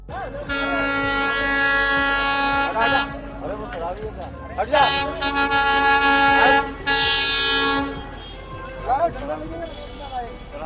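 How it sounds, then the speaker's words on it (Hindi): A train horn blares loudly in long, repeated blasts with brief gaps as a train approaches, alongside rumbling rail noise; people talk over parts of it. "ट्रेन पायलट के भी हॉर्न बजा बजा कर रंगूठे दर्द करने लगे"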